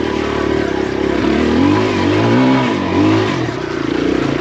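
A Kawasaki KLX140RF dirt bike on a rough, rooty enduro trail, its engine revving loudly and close, rising and falling in pitch as the throttle opens and eases, with steady mechanical clatter underneath and no talking.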